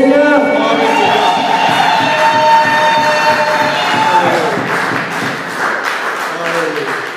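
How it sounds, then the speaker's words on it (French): A church congregation cheers and shouts loudly in praise, a dense sustained roar of many voices with some high-pitched cries, fading slightly toward the end. "Acclamons très fort le Seigneur."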